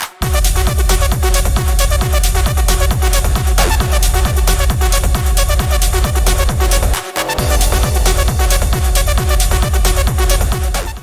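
Future rave techno club track, with a loud driving four-on-the-floor kick pulsing steadily under dense synths, a brief dropout near the seven-second mark before the beat slams back in.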